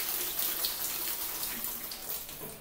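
Tap water runs steadily while a cyclone vacuum cleaner's HEPA filter is rinsed, a continuous close splashing hiss with no talk.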